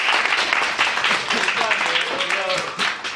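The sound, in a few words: class applause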